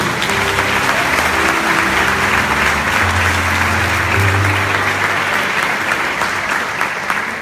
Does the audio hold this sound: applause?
yes